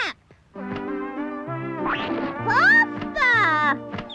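Cartoon duck quacking, a string of nasal quacks in quick succession, loud and close, with a character's voice in the scene.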